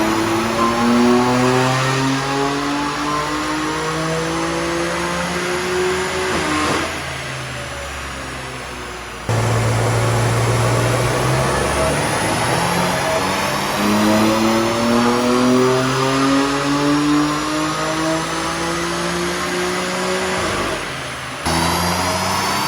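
BMW M4 Competition on a dyno day, its engine revving hard through repeated rising sweeps, loud and close, with brief lifts off the throttle between pulls and no talking.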